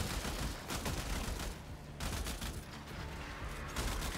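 Rapid, dense gunfire from a weapon in the shooter video game Warframe, sustained bursts with a brief lull midway, loud and continuous with no talking.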